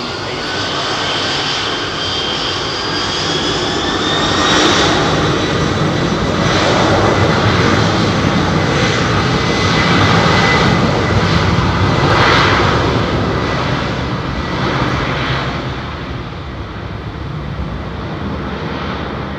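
A Boeing 767-300 jet takes off at London Heathrow, its engines roaring loud and steady for the whole stretch, swelling slightly in the middle as the airliner powers down the runway, with no voices over it.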